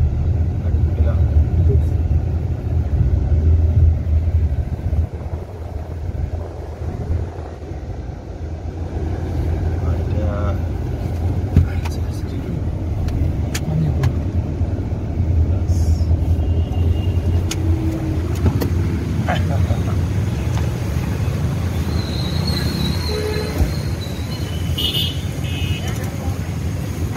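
A car drives along a road in Nanded, its engine and tyre rumble a steady low drone throughout, heard from inside with people talking over it.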